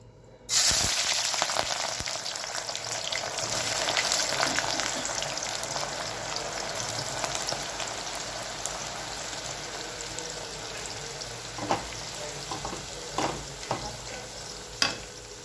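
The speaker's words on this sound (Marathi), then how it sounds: "आपण जे 1 किलो कांदा घेतला होता का त्यातला मी अर्धा कांदा तळून घेणार आहे तेलामध्ये।" Half a kilogram of onions is frying in oil, giving a loud, continuous sizzle with occasional crackles and the scrape of stirring, heard on its own without speech.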